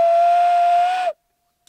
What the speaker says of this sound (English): Eric did some whistling.